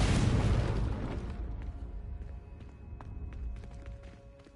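Confringo blasting spell explosion in Hogwarts Legacy, a loud low boom at the start that rumbles and slowly fades, followed by scattered faint clicks and a thin whine, with no voices.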